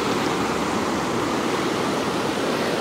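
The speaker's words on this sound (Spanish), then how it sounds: "Está muy, muy fuerte el río" A powerful river swollen by a hurricane rushes in a steady, loud roar of churning water, continuous and close, with no voices.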